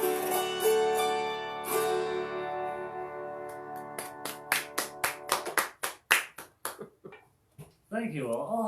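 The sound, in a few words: audience applause after a concert song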